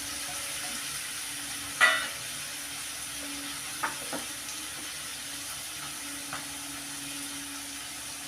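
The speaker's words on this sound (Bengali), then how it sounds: "এখানে কেটে রাখা টমেটোটা দিয়ে দিলাম।" Chopped tomato fries in a spice masala for a Bengali lote fish curry, giving a soft, steady sizzle and hiss with a few faint clinks of stirring, quiet and close.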